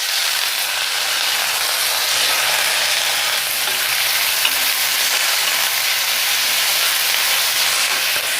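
Onion frying in oil in a kadai for dhaba-style paneer lababdar gives a loud, close, steady hiss of sizzling that holds unbroken throughout, with no talking.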